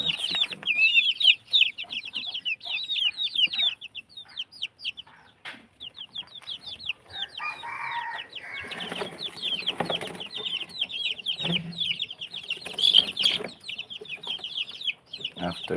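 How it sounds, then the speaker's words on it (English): Backyard chickens at a feeder give a steady stream of rapid clucks and chirpy calls, fairly close and continuous, with faint handling noises partway through. "So we're going to add feed on to our chicken."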